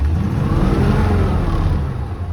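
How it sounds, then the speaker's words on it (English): A 1936 Ford engine revs up steadily as its throttle knob is pulled, a loud, continuous mid-pitched engine roar that holds high for the whole stretch and eases slightly near the end. "and the engine revs up"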